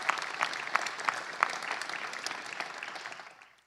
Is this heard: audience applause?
yes